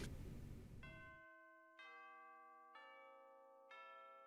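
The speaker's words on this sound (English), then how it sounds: "I ring the bell." A small handheld bell rings in a series of clear, sustained metallic tones, evenly spaced and ringing out in near silence, after a moment of low murmur and before a sudden sharp noise at the very end.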